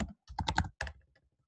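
Quick bursts of typing on a computer keyboard, a close cluster of clattering keystrokes followed by a short pause and a few more taps trailing off.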